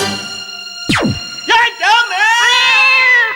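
A cat meows several times in a row, loud and close, with drawn-out wavering cries. A sharp sweeping noise comes just before the meows.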